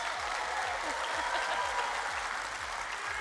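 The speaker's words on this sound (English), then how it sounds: "Can everybody clap for us?" An audience claps together at a university technology entrepreneurship pitch competition, a steady dense wash of many hands heard throughout, fairly distant in a large hall.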